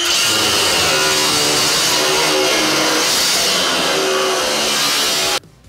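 Loud, steady whine of a power tool cutting through metal for a DIY TV stand, running continuously for about five seconds, then cutting off abruptly.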